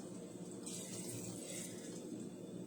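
Tap water fills a measuring cup for teriyaki cooking, a soft, steady rushing stream that runs continuously and faintly, with no talking.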